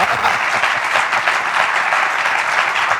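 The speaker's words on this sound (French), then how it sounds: "Entendez juste leurs applaudissements." A dense, steady round of audience applause at a charismatic revival gathering, with many hands clapping continuously for about three seconds.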